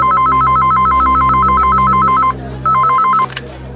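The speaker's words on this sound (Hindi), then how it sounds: "किसका फोन है?" A telephone rings loudly with a rapid warbling electronic trill in two bursts, a short gap between them, over a low background hum.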